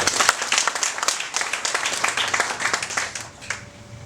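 Applause from an audience at a church farewell ceremony, a steady run of many hands clapping close and fairly loud, thinning slightly toward the end.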